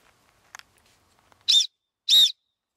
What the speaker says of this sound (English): It's a jet scream whistle.